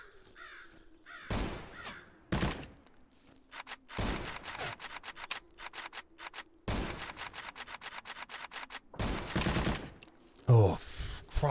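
Guns fire in the survival shooter game ZERO Sievert, with rapid bursts of automatic shots that repeat in clusters over a steady background hum, loud and close.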